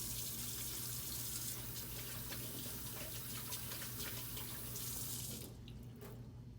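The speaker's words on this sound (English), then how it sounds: "Run the water and use plenty of soap." Tap water runs steadily into a sink for hand washing in a kitchen, a constant close splashing stream that cuts off near the end, leaving quieter room tone.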